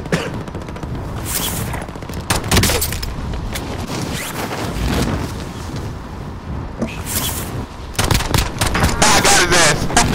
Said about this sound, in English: You got somebody shooting at you already?